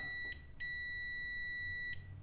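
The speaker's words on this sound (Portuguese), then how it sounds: "Se bipar, isso me mostra que tem continuidade." Two sustained high-pitched electronic beeps from a multimeter continuity test, the first brief and the second longer, close and clear with a short gap between.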